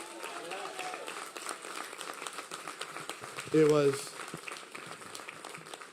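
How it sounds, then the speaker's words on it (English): Crowd applause at an affordable housing groundbreaking ceremony in New York City, scattered outdoor clapping mixed with murmuring voices and brief talk, with a louder voiced burst partway through. "Give them a big round of applause."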